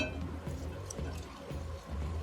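Water pours steadily into a container, a low, full gurgle with faint drips, continuous for a couple of seconds.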